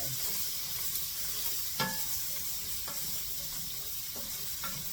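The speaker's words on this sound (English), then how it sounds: "So I'm going to start those cooking. Who said you can't fry carrots, right?" Carrots and onion frying in a hot pan, a steady broadband sizzle with occasional sharp stirring clicks and scrapes, close and continuous.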